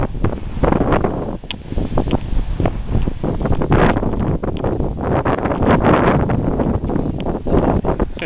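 Strong wind buffets the microphone in a steady, roaring rush on the Mississippi River, where a small fishing boat sits beached on a sandbar. The gusts are loud and continuous throughout, and no one speaks.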